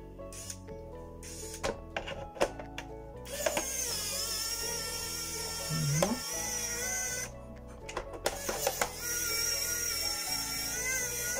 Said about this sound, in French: Et je vais le dévisser.